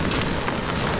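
Heavy rain pours down in a dense, steady hiss with a patter of drops on the surface, loud and continuous across a single brief second.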